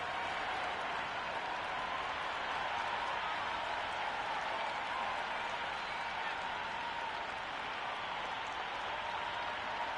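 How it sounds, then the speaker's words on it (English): A stadium crowd roars and applauds at a Big Bash League cricket match between Melbourne Stars and Melbourne Thunder in the game Cricket 26, a steady, distant wall of noise with commentary talk faintly underneath. "this crowd is already making it hard for me to be heard"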